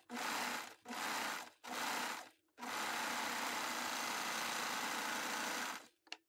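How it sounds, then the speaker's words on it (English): A serger sewing machine gathers knit fabric into ruffles, buzzing in three short bursts and then one long continuous run, close and alone, before it stops. "let's take it over to the serger and do the ruffles"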